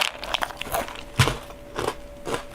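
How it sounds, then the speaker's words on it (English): Close, crisp crunching of dry Lucky Charms cereal being chewed, several loud bites and crackling chews spaced irregularly, with no talking. "Oh my gosh, they can hear me chew."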